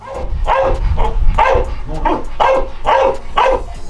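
A dog barks repeatedly in a steady rhythm, close and loud, about eight sharp barks with no other sounds.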